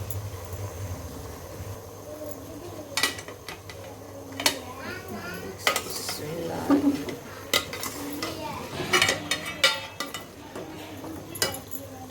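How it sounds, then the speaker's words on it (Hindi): Mixed potato, pea and carrot vegetables being stirred in a metal pot, a string of clanks and scrapes from a utensil against the pan, with background voices and some children's chatter. "अब इसको करेंगे मिक्स।"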